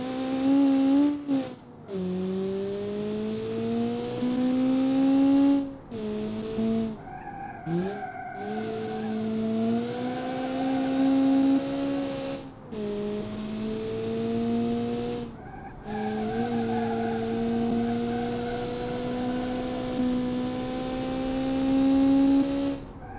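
Racing video game car engine revs in long rising and falling sweeps, cutting out briefly between gear changes, with tire squeal and skidding during hard, poorly braked cornering; loud and continuous, no voices.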